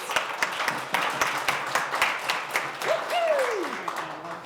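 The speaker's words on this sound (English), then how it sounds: "Let's give her a round of applause." Attendees at a monthly meeting clap in applause, a moderate scattering of individual claps from a small room, with a voice speaking and a rising-and-falling vocal sound near the end.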